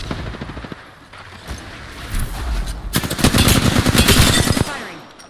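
Rapid automatic gunfire from the shooter video game Apex Legends, a burst near the three-second mark growing into a loud, dense stream of shots that stops abruptly before the end.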